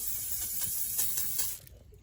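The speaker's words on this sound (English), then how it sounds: "We're gonna do the cooking spray." A steady, close hiss of aerosol cooking spray runs for about a second and a half, then cuts off abruptly, while making waffles over a campfire.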